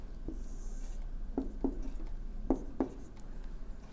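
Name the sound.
pen sketching a quadratic graph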